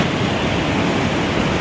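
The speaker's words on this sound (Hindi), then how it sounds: "कितना तेज पानी आ रहा है।" Fast-flowing flood water of the Sutlej river rushing under a bridge, a loud, steady broadband roar with no break.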